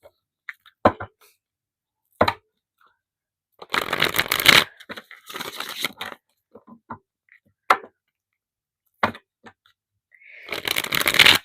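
Tarot cards are shuffled close up in several riffling bursts of papery flutter, separated by sharp taps and quiet pauses.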